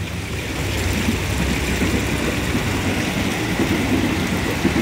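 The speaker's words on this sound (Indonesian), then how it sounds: "Untuk landscape model air terjunnya nih." Small miniature landscape water feature with a pump-fed waterfall gives a steady, even splashing rush of falling water, close and continuous with no voices.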